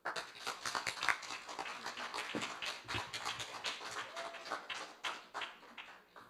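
Scattered audience clapping in a parliamentary session, uneven bursts of hand claps rising and falling with irregular rhythm, moderately close, with no clear talk over it.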